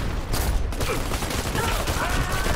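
Dense, continuous gunfire from a first-person shooter, Dirty Bomb, in an objective match on the Dome map; the rapid shots blur into a steady rattling burst that runs loud throughout the short stretch.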